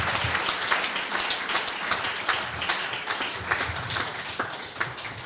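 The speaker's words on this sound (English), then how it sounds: "Can we give a round of applause for Terry Curran, everyone?" An audience at a Sheffield Wednesday fans forum in a working men's club claps steadily, a dense continuous patter of applause filling the room throughout.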